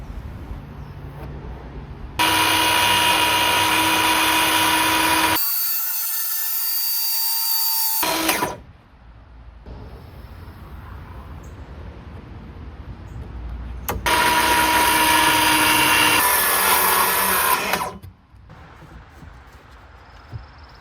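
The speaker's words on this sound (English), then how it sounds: "I'm just trimming off the bottom edge that faces the wall" A power tool trims the bottom edge of a wooden workpiece in a 125-year-old house, with two loud, sustained high-pitched whining runs of several seconds each, separated by quieter stretches of lower motor hum, with no talking.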